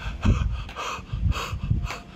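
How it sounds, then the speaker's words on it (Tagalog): Hard, rhythmic panting from a cyclist after the first steep climb of the Davilan trail in Carmona, with close, heavy breaths in quick bursts. "Unang akyat natin, hingal lang hingal."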